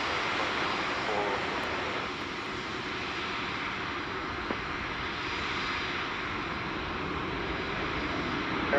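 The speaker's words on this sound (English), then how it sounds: "we'll stick with our arriving aircraft on runway" A fixed-wing airliner arriving on runway 28 Center at Chicago O'Hare gives a steady, broad engine roar that holds throughout at moderate distance, alone without voices.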